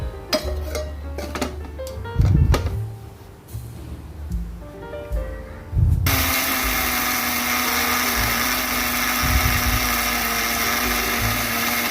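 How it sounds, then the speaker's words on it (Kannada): Mixer grinder grinding roasted peanuts into a dry chutney powder, with clinks and short bursts first, then a loud steady motor whine running continuously for the second half. "ಅದನ್ನು ಮಿಕ್ಸಿ ಮಾಡಿರಿ"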